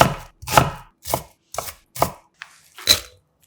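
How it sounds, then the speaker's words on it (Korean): Knife chopping a small onion half on a cutting board, about seven crisp, evenly spaced chops sounding close and clear with no talk. "양파 작은 거 반 개는 칼집 여러 번 넣고 작게 썰어"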